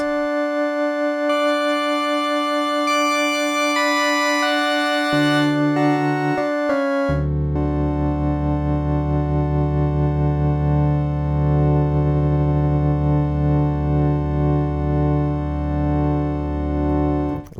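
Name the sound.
synthesizer playing seventh chord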